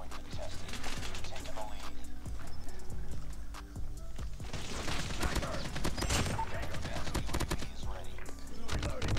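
Rapid gunfire crackles in COD Mobile, with dense bursts of shots near and far over busy game ambience, growing heavier in the second half.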